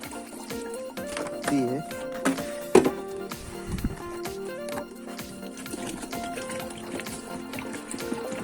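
Water being poured from a ten-litre container into a drinking vessel for rabbits in a yard, a gurgling, trickling flow with clunks and rustling, while someone talks throughout.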